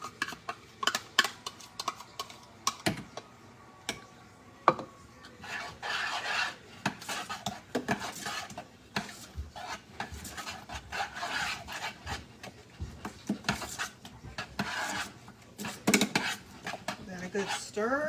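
Ranch dip in a pot, with blue cheese optionally added, is stirred with scraping, rasping strokes and scattered clinks of utensil on metal, in uneven bursts with faint talk in places.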